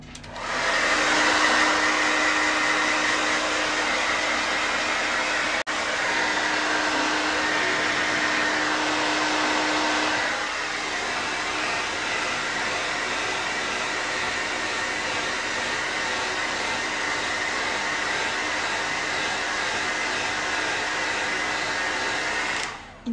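A hair dryer runs loud and steady for over twenty seconds with a broad whooshing airflow and a motor whine, its pitch shifting slightly about halfway through, with no talk over it.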